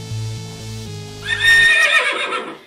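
Horse neigh sound effect triggered by touching houseplants wired with alligator clips to a Makey Makey board: a low tone gives way to a loud, bright whinny with a falling, wavering tail, heard alone.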